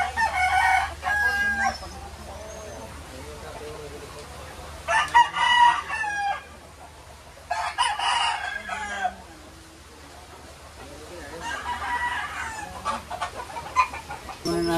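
Chickens and a rooster at a Montalban, Rizal yard after Typhoon Enteng, with several loud nearby crows in bursts and clucking in between, set against steady background noise.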